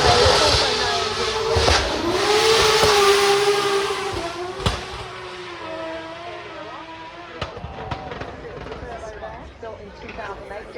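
A drift car driven by James Dean roars off and spins donuts at Goodwood in 2024, its engine revving and droning loudly under continuous commentary and crowd noise, with sharp pops and tire bursts scattered through.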